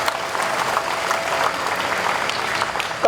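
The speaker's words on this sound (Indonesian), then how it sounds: "Tepuk tangan untuk sekretariat" An assembly crowd at a morning flag ceremony gives a dense, even round of applause for the secretariat, steady and fairly loud from start to finish.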